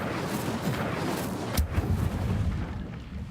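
Incendio fire spell cast in Hogwarts Legacy, a rumbling burst of roaring flame with a sharp crack midway, loud and continuous for about three seconds.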